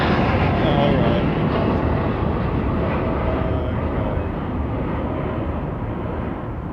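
Jet aircraft at London Heathrow Airport, including a Boeing Dreamliner, give a steady, loud broadband engine roar that holds throughout and slowly eases in level, with no distinct speech over it.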